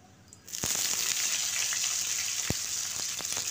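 Eggplant pieces sizzle loudly in hot spiced oil, starting abruptly after a brief quiet moment and holding a steady bright crackle with a few sharp clicks of spatters or stirring, no talking.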